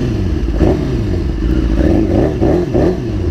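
Modified BMW S1000RR sport motorcycle with an engine management light on, its engine idling with a loud, close, throaty burble, punctuated by several short blips of the throttle.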